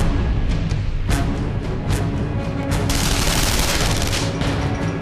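Gunfire in the video game Wanted: Weapons of Fate, loud dense bursts of shots and booming impacts in rapid succession, continuous and close throughout.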